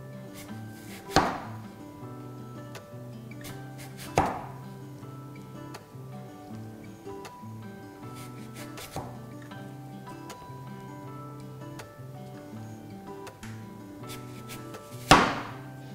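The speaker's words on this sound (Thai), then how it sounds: "ใช้เวลาหั่นแอปเปิ้ลทั้ง1ลูกก่อน" Knife slicing an apple into thin slices for a rose tart: soft, steady cutting ticks in a regular rhythm with a few louder knocks on the board, alone and close.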